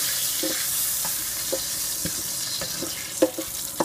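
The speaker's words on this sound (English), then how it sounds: "add some cloves, some cardamom, some cinnamon, the bay leaf, and now we just saute it" Cloves, cardamom, cinnamon and a bay leaf sauté in a pan of oil used earlier for frying prawns. A soft, steady sizzle runs under light, scattered scrapes and taps of stirring.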